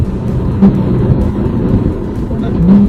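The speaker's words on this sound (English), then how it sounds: "That's the car rev matching when you downshift." A Nissan 370Z engine hums steadily, its revs briefly rising in a quick automatic rev-matching blip as a gear drops, with a voice talking over it.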